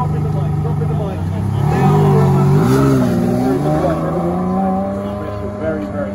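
A Ferrari Enzo engine revs up and accelerates, its loud, close roar climbing and dipping in pitch in smooth sweeps before settling into a sustained higher drone.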